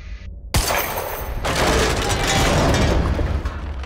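In Quantum Break, a single sharp gunshot cracks loudly against a destructible object in an industrial area, followed by a long, noisy burst of breaking, rattling debris.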